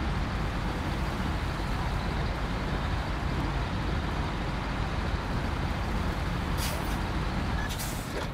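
A low-grade truck in the Snowrunner video game rumbles steadily with a loud, continuous engine and road drone, with a couple of brief hissing bursts near the end.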